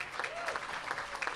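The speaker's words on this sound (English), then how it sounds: "How about an applause for NYP?" Brief audience applause for New York Presbyterian at a theatre groundbreaking in Washington Heights, a soft, distant wash of clapping heard only for a moment.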